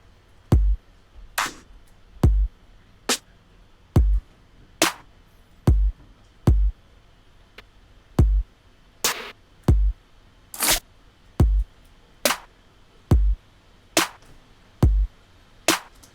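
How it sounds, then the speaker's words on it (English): Single snare hits sound one at a time, spaced by short pauses, each a sharp crack with slightly different tone, with no talking. "browse through some different snares"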